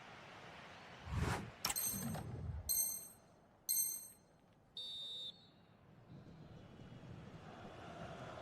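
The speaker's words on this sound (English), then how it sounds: "the whistle is sounded for half-time in this game" A referee's whistle blows for half-time in an eFootball match, with a few short shrill blasts over a low crowd murmur, followed by softer buzzing tones.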